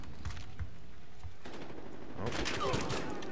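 Rapid automatic gunfire in the Battlefield Hardline multiplayer beta, sustained bursts building louder toward the end, with brief voice chatter mixed in.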